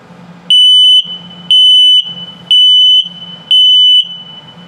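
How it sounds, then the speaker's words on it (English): A detector low battery alarm in a 2022 Ember Overland Micro ROK travel trailer beeps loudly up close in a steady pattern, four long shrill tones about a second apart with brief low hum between them. "and low battery alarm."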